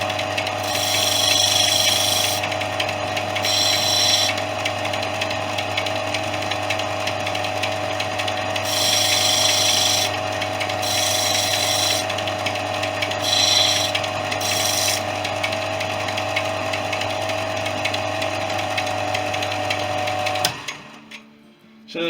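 A 400 grit abrasive deburrs the cut end of a hinge for a Fisher Youngster V kit plane, giving a steady mechanical whir under repeated brighter rasping bursts. The whir runs alone and close, then stops abruptly near the end.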